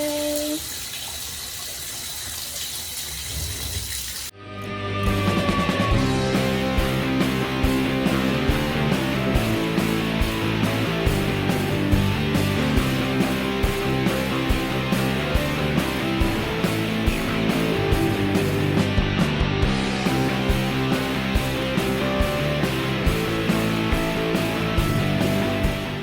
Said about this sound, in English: The bleached garments have been rinsing for a little while.